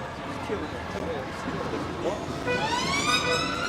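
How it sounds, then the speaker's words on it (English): Police sirens wailing as vehicles head into Whitehall during a street protest, the rising and falling tone emerging loud in the second half over crowd noise and talk. "going into Whitehall now with their sirens on."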